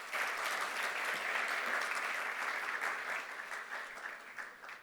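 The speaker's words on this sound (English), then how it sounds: "One more round of applause for him" Sustained applause from a business summit audience for a presenter, steady and dense throughout with no speech over it.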